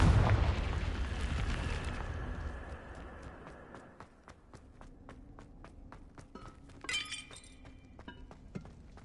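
Confringo blasting spell in Hogwarts Legacy, a loud booming explosion with crackling debris that fades out, followed by scattered clinks and footsteps, no talking.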